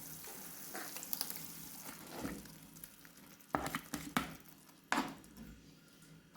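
Tomato sauce hits fried onions in a pan, giving a quiet, steady sizzle with scraping and stirring clatter and a few sharp louder bursts near the end.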